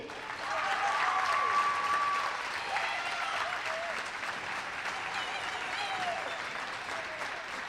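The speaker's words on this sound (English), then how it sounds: "Let's give a round of applause for the recently elected coach of the North Fond du Lac Orioles" Audience applause rings out for a girls' basketball coach at a high school varsity game in a gym, a steady wash of many hands clapping that swells early and then holds a little softer.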